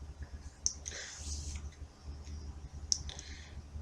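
A computer keyboard clicks in a few short bursts of keystrokes, with two sharper clacks standing out over faint background hum.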